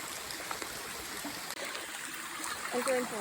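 Quiet, continuous trickling and gurgling of a creek running high during rain in the Uwharrie area, heard up close, with a faint voice briefly surfacing near the end.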